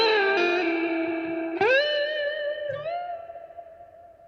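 An electric guitar played through a tape-echo-style delay with long repeats, sustained bending notes ringing out and trailing off as the echoes gradually fade, with no talk.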